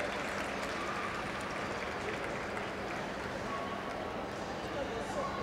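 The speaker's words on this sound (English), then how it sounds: "Let's have a nice round of applause there." Steady applause from an indoor audience at a Crufts 2017 dog obedience rally, a dense continuous clatter of clapping that holds for several seconds at moderate level with no clear breaks.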